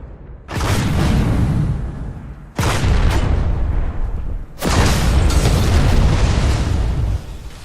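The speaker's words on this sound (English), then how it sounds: "Switch to your rocket launcher and use it to blow up an enemy vehicle." Rocket launcher blasts tear into an enemy vehicle in PlanetSide 2, three loud booming explosions in quick succession, each a dense roaring burst that lingers before the next.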